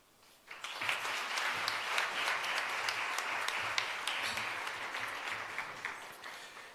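A crowd applauds after a speech at a hybrid capacity-building workshop. Clapping breaks out suddenly, stays steady and moderately loud with distinct individual claps, then eases gradually.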